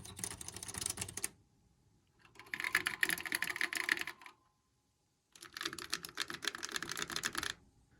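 Keys clatter on vintage Apple II and II Plus computer keyboards in three separate bursts of rapid typing, each a couple of seconds long with short quiet gaps between, close and fairly soft, with no voices.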